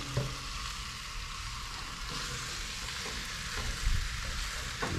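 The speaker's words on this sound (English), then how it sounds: "So now we're about to add our backstrap fajita to the peppers and onions." Deer backstrap fajita strips hiss and crackle against sizzling peppers and onions in a hot pan, a continuous, close frying sound with a few louder spits and pops.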